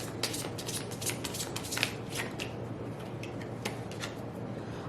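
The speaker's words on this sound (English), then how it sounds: "it's kind of hard for me to shuffle or like grip the cards" A deck of playing cards being shuffled, with repeated crisp riffling bursts and soft flicks close by, continuing in uneven rhythm with no talking.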